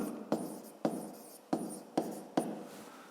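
Pen writing on paper, five distinct scratchy strokes spaced roughly evenly, close and quiet.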